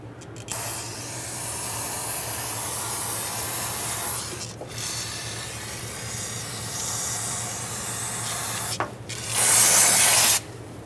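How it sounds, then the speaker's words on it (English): Long continuous hiss of an aerosol brake parts cleaner spraying onto a brake caliper of a Honda Civic, close and steady, with a brief pause and a louder final burst. "spray brake parts cleaner on this to clean everything off"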